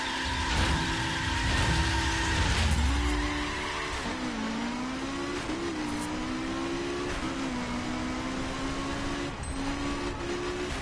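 Racing cars in a video game roar with a loud, sustained engine drone that rises and falls as they rev, broken by tire squeals and skids, with no talking.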